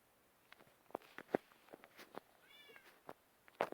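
A cat in the video game Minecraft gives a short meow amid scattered soft taps and clicks, fairly quiet and close.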